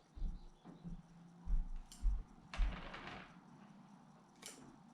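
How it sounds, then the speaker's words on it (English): Scissors snip large lower leaves from a jade succulent, making a few faint, sharp clicks spaced irregularly over a quiet background. "I'm going to come in with the scissors and start taking off all these large leaves at the bottom."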